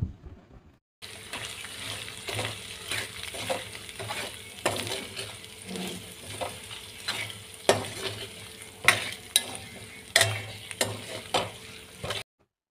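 Mutton curry being stirred in a pan after coconut paste, ground coriander and cumin are added, with a steady sizzle of frying and repeated scraping strokes from the spoon, close and fairly loud, with no talking.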